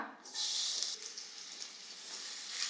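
Cumin, black pepper, dried red chillies and sliced onion sizzle in hot oil in a kadhai, a soft continuous hiss that swells after a brief quiet start and stays steady, faint and close, without speech.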